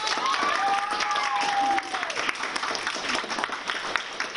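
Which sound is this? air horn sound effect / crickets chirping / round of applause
round of applause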